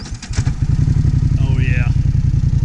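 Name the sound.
Polaris four-wheeler engine running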